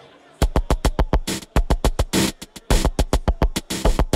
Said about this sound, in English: percussive and tonal element, once again derived from the leaf blower audio clip